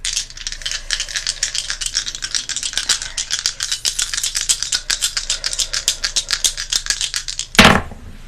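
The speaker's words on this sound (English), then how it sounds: "I'm going to roll the astro dice as well" Astro dice rattle steadily in a rapid clatter of small hard clicks for several seconds, close and alone, ending with a brief louder knock as they land.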